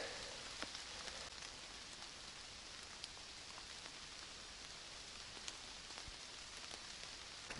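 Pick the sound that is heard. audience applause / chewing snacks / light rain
light rain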